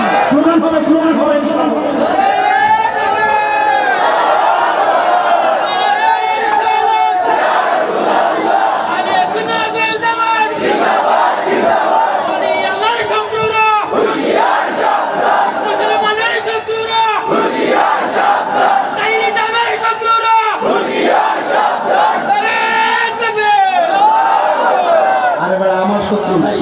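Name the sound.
crowd chanting slogan "halal halal"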